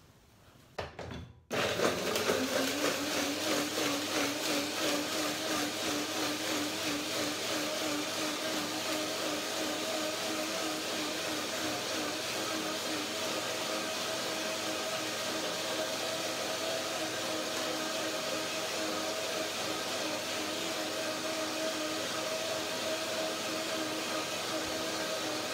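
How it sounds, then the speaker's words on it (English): A blender starts with a click and runs continuously at a loud, steady whir, with the blades churning fruit and water nearby for the whole stretch. "I will put some water, blend it up"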